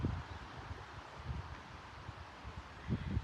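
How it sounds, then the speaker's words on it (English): Wind gusts and rustles steadily at a countryside homestead as a storm approaches, with soft low buffeting rising and falling, fairly faint and with no voices. "You hear the wind?"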